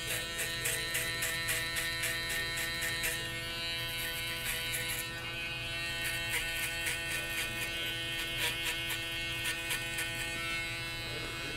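FX One electric hair clippers run with a steady buzzing hum and a bright whine, pulsing in short rhythmic bursts as the blades work, close to the microphone with no talking.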